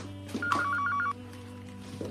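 A landline telephone rings once in a household, a rapid warbling electronic trill lasting about half a second, heard clearly over a steady low hum.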